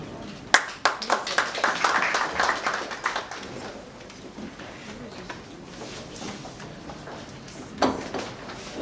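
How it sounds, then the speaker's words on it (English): A short burst of clapping erupts from a small crowd at a mycotoxin handbook donation ceremony, lively for about three seconds before dying away into quieter room noise, with a brief clap returning near the end. "A round of applause for him as he displays his flag of the quarantine services."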